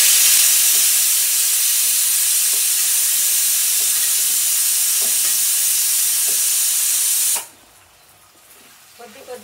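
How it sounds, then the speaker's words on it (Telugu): Gongura leaves fry loudly in hot oil, a dense steady sizzle and hiss for about seven seconds that then drops abruptly to a faint, quiet background. "మనం ఈ ఆయిల్లో గోవాకు బాగా ఫ్రై చేసుకోవాలి"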